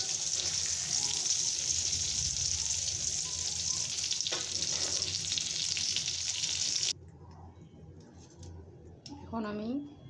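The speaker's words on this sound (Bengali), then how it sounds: "আমার ডিমগুলো ভাজা প্রায় শেষ" Eggs frying in a pan give a dense, steady sizzle for most of the stretch before it cuts out abruptly, leaving a quieter background and a brief voice near the end.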